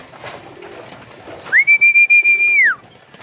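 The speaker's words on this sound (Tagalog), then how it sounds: "Yan, mga ibon natin, oh." A loud, steady whistle-like tone with a pulsing start, over soft background rustle and murmur as pigeons fly into their loft, though no wingbeats stand out.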